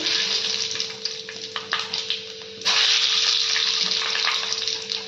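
Panch phoron spices hit hot oil and sizzle loudly, a close, hissing fry that dips briefly before surging back stronger and steady for the rest.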